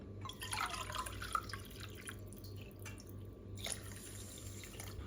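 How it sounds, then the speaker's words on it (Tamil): Water poured from a tumbler into a pot while making bisi bele bath, a soft trickling and dripping splash that stays faint and steady over low background hum. "நான் இதுக்கு 7 டம்ளர் தண்ணி ஊற்றுறேன்."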